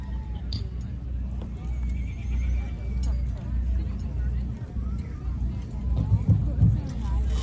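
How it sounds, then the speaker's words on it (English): A Hackney gelding pony at an outdoor horse event in Pennsylvania gives a whinny while hooves clip-clop steadily, set against a crowd murmur and a low rumble, with the neigh most prominent near the end. "They brought a Hackney gelding."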